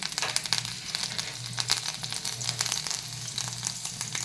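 Chopped green chillies frying in hot oil, a steady close sizzle with crackling spits throughout, no voices over it.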